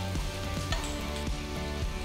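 Chopped onions sauté in a pan for egg pepper masala, a steady close sizzle with light crackling and a few stirring scrapes, alone without talk.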